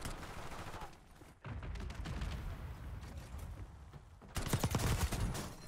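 Rapid assault rifle bursts in Black Ops 6 rattle close and loud, pausing briefly before a heavier, denser spray of shots near the end, with no talk over them.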